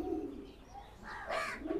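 Imported Pakistani pigeons, currently moulting, coo softly at close range in a short low murmur that swells near the end, with a faint chirp mixed in.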